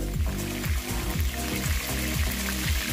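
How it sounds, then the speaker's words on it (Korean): Shrimp coated in starch fry in a shallow pool of oil in a frying pan, giving a steady, close sizzle that runs under background music throughout. "프라이팬에 기름 자작하게 부어 골고루 튀겨주세요."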